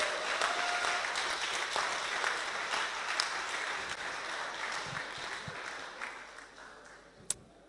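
Applause for the second-place team at a Startup Weekend Bratislava pitch final: a soft, steady audience clapping that fades slightly toward the end, with one sharp clap near the close.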